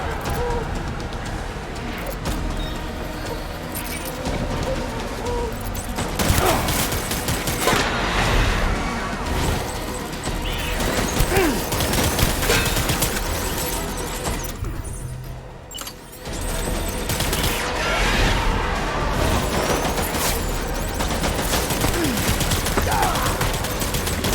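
Dense, continuous gunfire in the video game Death Stranding, with rapid automatic bursts, booms and mechanical clatter layered throughout, loud and close, briefly dropping near the middle before resuming, with occasional voices mixed in.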